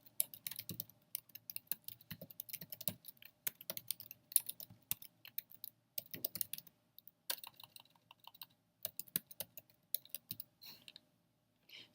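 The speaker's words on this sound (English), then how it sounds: "So type in the email address that you used to set up your account, type in the password and click on login." Keys clatter on a computer keyboard in quick, uneven bursts of typing with short pauses between them, close but fairly quiet.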